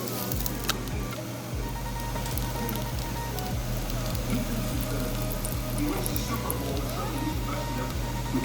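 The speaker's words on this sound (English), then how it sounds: "Let me take this one out and then we can sizzle." A tortilla frying in a hot pan gives a steady, even sizzle that holds for several seconds, with faint clicks and kitchen noise around it and no voices.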